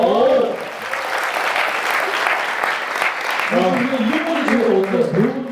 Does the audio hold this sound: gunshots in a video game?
no